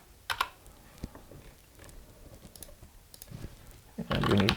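Computer keyboard keystrokes and key-combination presses while working in an Excel spreadsheet, a few scattered soft clicks followed by a denser burst of typing at the end, close and fairly quiet, with no talk.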